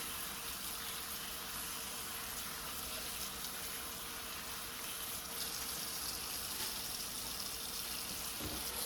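Herbs and soursop leaves are rinsed under running water, a steady faint splashing hiss with no pauses or talk throughout.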